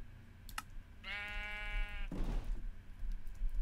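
A Minecraft sheep gives one clear, wavering bleat lasting about a second. Computer keyboard clicks and a short burst of noise follow it, over a low background hum.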